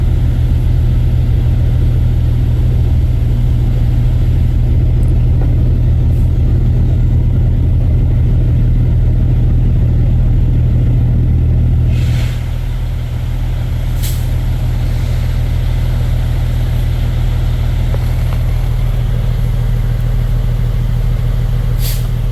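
A line of trucks idling in a crowded port queue, a continuous deep engine drone with occasional sharp air-brake hisses and a slight dip in the rumble partway through, no talking.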